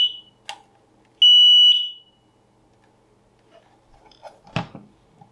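A SAFE-TECH interlinked smoke alarm gives a short high-pitched chirp, then a loud steady electronic beep of about half a second during a button test, followed by light handling clicks and a sharp clatter.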